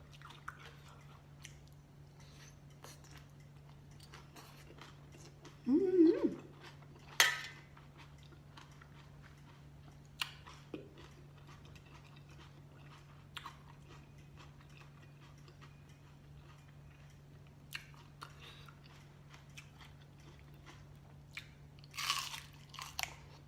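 Crunchy raw vegetables chewed with spicy Thai papaya salad (som tam) and boiled eggs: a few scattered, fairly quiet crisp bites, with one louder crunching burst early on, over a steady low hum and no talking.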